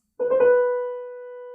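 Piano plays a quick upper mordent, a rapid flick to the note above and back, then the main note rings out and slowly fades.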